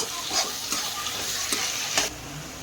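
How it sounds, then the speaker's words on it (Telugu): Sliced onions with a spoon of turmeric fry in a pan for gongura chicken, a steady close sizzle with a few sharp scrape-like bursts from stirring. "గోల్డెన్ కలర్ వచ్చే వరకు ఫ్రై చేసుకోవాలి."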